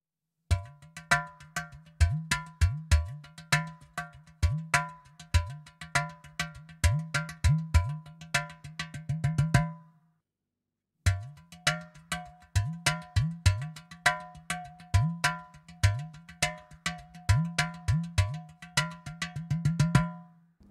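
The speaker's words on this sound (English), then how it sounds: "The Aludo 2 has a sound tube which gives you the possibility to change the bass sound." A Valter Percussion Aludu 2, an aluminium hand percussion instrument with a bass sound tube, is struck in quick rhythmic patterns of bright, ringing metallic hits with deeper bass tones. The playing pauses briefly midway, then resumes.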